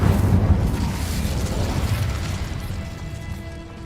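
A fiery Incendio spell blast in the video game Hogwarts Legacy, a loud booming burst with a deep rumbling roar that trails off slowly over several seconds, heard alone without voices.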